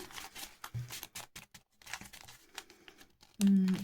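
Crinkly rustling and crumpling of paper packets being shuffled in bursts, with a voice speaking briefly between the rustles.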